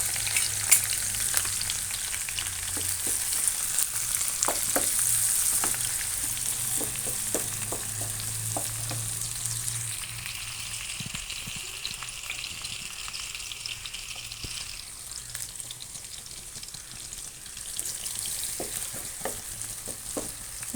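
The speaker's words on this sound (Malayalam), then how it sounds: "ഓക്കെ, ഇത് ആഡ് ചെയ്തിട്ട് നമുക്കിതൊന്ന് നന്നായിട്ട് വഴറ്റാം." Shallots, garlic and curry leaves sauté in coconut oil for beef dry fry, a continuous sizzle with frequent scraping stir clicks close by, with no talking.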